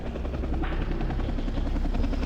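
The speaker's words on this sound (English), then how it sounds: "the police chopper approaches the airstrip" A police helicopter approaches a remote Alaska airstrip, its rotor chop a loud, steady, close thudding drone that fills the whole stretch with no voices.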